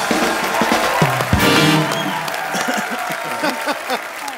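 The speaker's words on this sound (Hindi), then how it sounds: "एक बार सलमान खान और अनुष्का शर्मा के लिए जोरदार तालियां" Applause and cheering from a studio audience greet Salman Khan and Anushka Sharma on a comedy chat show, a dense, steady clatter of clapping with a brief louder burst partway through.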